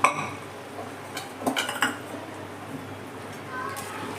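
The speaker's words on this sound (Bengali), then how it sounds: "দেখুন জল দিয়ে ভালো করে আমি প্রথমে এভাবে নেড়ে দিলাম।" Soybeans and lentils with water are stirred in a pressure cooker, giving a few light metallic clinks and scrapes of a spoon against the pot, clustered near the middle and otherwise quiet, with no talk.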